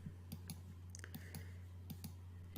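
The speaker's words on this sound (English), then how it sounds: "And here I'm just clicking and dragging" Mouse clicks while dragging in digital painting software, a series of sharp, quiet, irregularly spaced clicks over a steady low hum.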